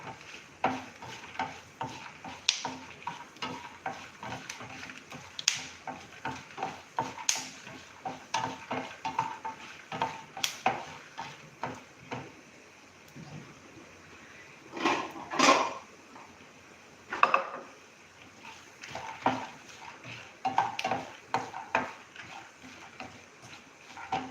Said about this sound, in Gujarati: હવે મગફળીના દાણા, લાલ મરચું અને ધાણા એને એકદમ સરસ રીતે ખુશ્બુ એવી સુગંધ આવે ત્યાં સુધી આપણે એને શેકી લેશું.